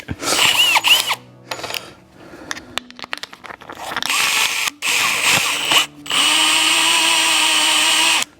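Milwaukee power tool whirring in bursts in a blacksmith shop during knife restoration, with clattering and ratcheting between runs and a long steady high-pitched spin at the end.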